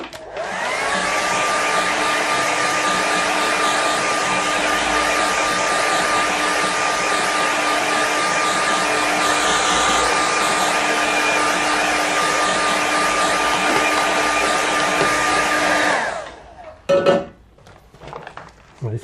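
A hair dryer blows steadily on a watercolour landscape painting, a loud continuous whir with a fixed hum that runs for about sixteen seconds and then cuts off, leaving a few faint clicks and handling noises.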